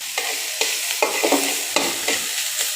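Green chillies with salt and turmeric stir-frying in a pan for a traditional Barisal-style chilli fry, a steady sizzle broken by repeated scraping stirs about every half second, close and fairly loud with no voices.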